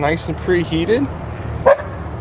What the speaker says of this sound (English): Excuse my poodles barking in the background.